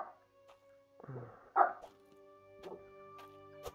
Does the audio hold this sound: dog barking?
yes